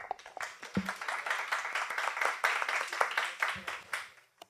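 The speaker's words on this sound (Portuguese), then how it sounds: "uma salva de palmas" A lecture audience applauds after a talk on the cholera epidemic in Espírito Santo, with scattered, fairly light clapping from a modest crowd that stays steady for a few seconds before tapering off.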